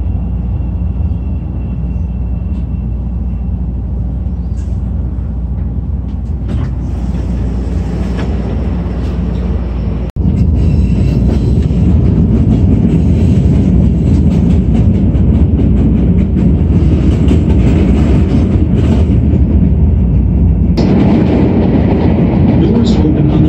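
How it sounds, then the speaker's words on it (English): A Chicago Red Line train runs toward Howard, heard from inside the car as a loud, steady rumble with rattling and clatter that grows heavier as it speeds up, and announcements play over it. "This is a red line train to Howard."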